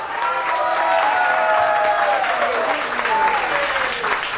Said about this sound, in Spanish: Un fortísimo aplauso para el duende de la guitarra española, don Emilio Prado.